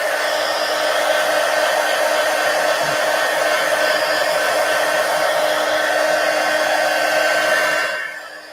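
Hair dryer blowing to dry paint and ink on a mixed media junk journal page, a loud, close, steady whooshing whine lasting several seconds before cutting off at the end, with no talking.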